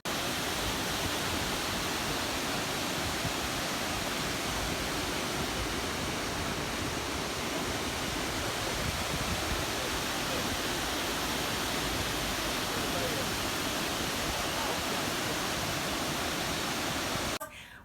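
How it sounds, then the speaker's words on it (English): Gurara waterfall in Nigeria roars in a steady, dense rush that stays loud and unbroken throughout. "It's just as the water drops, it flows away."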